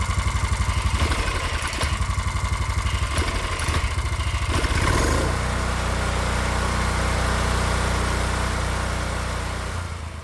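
A Predator 212 cc gasoline engine with an aftermarket air filter and custom exhaust runs steadily and loudly up close, a constant pulsing drone that starts choppy and settles into an even hum.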